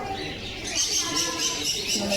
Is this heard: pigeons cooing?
yes